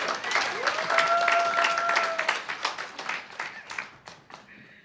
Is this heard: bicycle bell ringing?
no